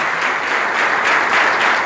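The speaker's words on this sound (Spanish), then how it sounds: "así que pido un fuerte aplauso para Laura hoy." A rally crowd in Posadas, gathered outdoors on a rainy evening for a council candidate's launch, claps steadily and loudly in dense, continuous applause with no pause across the moment.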